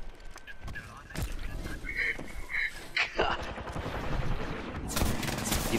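Weapon fire in the shooter Apex Legends, a few sharp shots and bursts within a busy game mix of effects, with a player's voice breaking in now and then.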